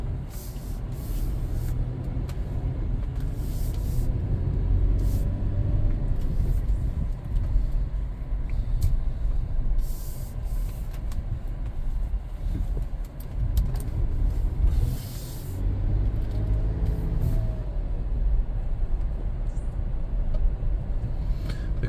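Steady low road and engine rumble inside a 2013 Toyota 4Runner Limited 4WD on a drive, continuous and close with faint rattles and no talk.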